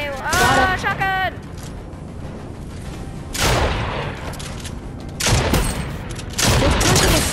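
Loud shotgun blasts in the video game Fortnite: three heavy booming shots spaced a couple of seconds apart. A voice talks excitedly near the start, and a steady background bed sits between the blasts.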